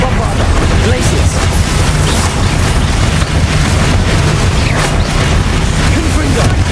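Loud, continuous burst of spell blasts from the Bombarda explosion spell in Hogwarts Legacy, with dense booming impacts and crackling debris layered over each other throughout, under ongoing game action and voices.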